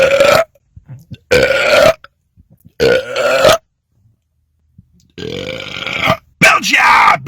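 Several loud, drawn-out belches after drinking Wild Cherry Pepsi, each a long rumbling burp separated by short pauses, close to the mic and dominating the clip.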